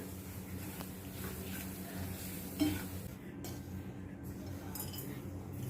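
Rava and grated carrot are stirred in a pan, giving a soft scraping and light sizzle with a clink of a utensil partway through. Quiet and close, with no talking.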